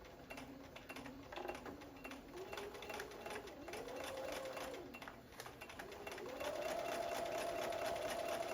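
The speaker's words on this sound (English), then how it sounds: "We'll go now and sew this line." A sewing machine stitches a line across a quilt block, running steadily and fairly quietly with a fast needle patter, its motor pitch rising near the end as it speeds up.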